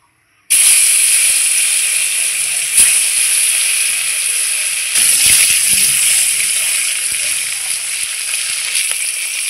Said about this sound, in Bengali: আমি এখন মাছটা ভেজে নেব।